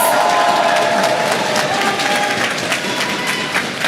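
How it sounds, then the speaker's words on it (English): An audience at a political platform launch applauds, steady crowd clapping filling the room at close range, with faint cheering mixed in. "That deserves a little bit more of an applause."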